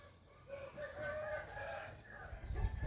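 Chickens at a Thai poultry farm, some kept in a coop and others free-ranging, crow and cluck at close range over steady low farmyard rumble, with overlapping calls continuing throughout.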